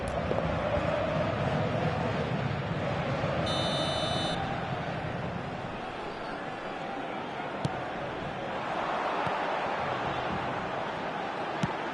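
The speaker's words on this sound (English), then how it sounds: "Alarm. That's the end of the first 45." A brief electronic buzzer sounds once at the end of the first half of a match, under steady crowd and wind noise.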